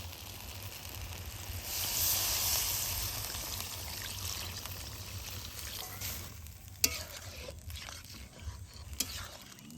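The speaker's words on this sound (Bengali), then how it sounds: "চুস্তাগুলা কিন্তু মিনিমাম হচ্ছে দশ থেকে পনেরো মিনিট খুব ভালোভাবে একদম কষি নিয়ে" Mutton chusta sautéing and being stirred in a pan, a steady soft sizzle with scraping spoon strokes and a few sharp clinks near the end.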